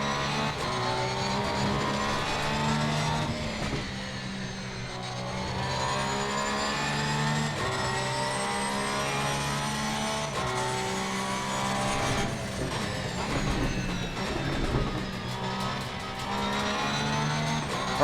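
A 2019 Porsche 911 GT3R race car in Assetto Corsa Competizione on the Laguna Seca circuit: the engine howls continuously, rising and falling through gear changes, loud and sustained with no talk.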